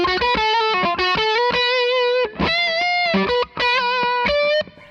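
Electric guitar through a fuzz pedal plays a distorted melodic lead line with sustained, harmonically rich notes and brief pauses, loud and close.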